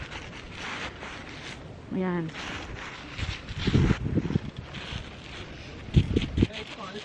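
Wind gusting through a snowstorm batters the microphone as a steady broadband roar, rising in a few sharper bursts, while people talk over it.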